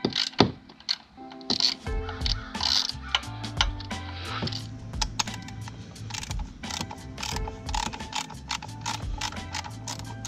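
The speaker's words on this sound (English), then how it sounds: "we're gonna need a 12 millimeter socket and a ratchet" A ratchet with a 12 mm socket loosens the oil drain plug on a fuel-injected Yamaha YFZ 450R ATV, giving quick mechanical clicks and rattles in irregular bursts, close and moderately loud over a faint background hum.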